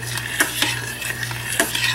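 Jasmine rice being stirred into boiling water in a pot for yellow rice, with a steady bubbling hiss and a few quick, close scrapes and clinks of the spoon.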